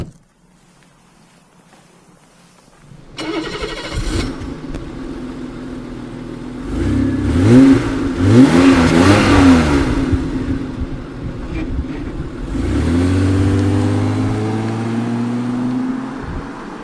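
A 1987 BMW 735i E32 starts up and pulls away onto the road, its engine note rising through smooth revs as it drives off, loud and close with no talking.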